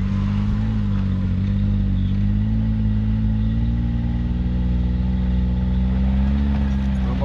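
An off-road vehicle's engine, stuck in a deep hole, runs loud and steady throughout with a low droning hum and slight rises in pitch as gas is applied gently.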